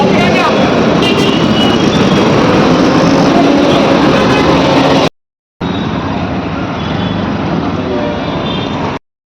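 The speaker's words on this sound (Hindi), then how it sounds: "इतना ट्रैफिक है" Busy city road traffic rumbles loud and close, with engines droning and horns mixed in, while someone talks over it; the sound cuts out briefly partway through.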